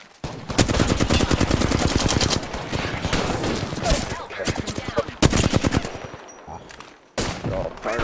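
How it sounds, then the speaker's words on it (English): Rapid automatic gunfire in Overwatch, long loud bursts of closely spaced shots with brief gaps, a player shouting over the shooting in places. "They're shooting at me!"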